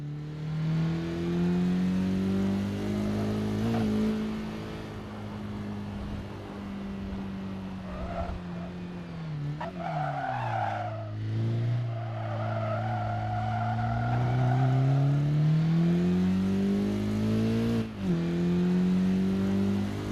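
Near-stock Honda race car engine revving in a racing video game on a banked track, a loud continuous drone that climbs and drops in pitch through gear changes and corners, with a brief squeal of tires.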